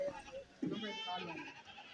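Goats at a livestock market, tied beside a vehicle, give a short, wavering bleat amid murmuring voices and background crowd noise.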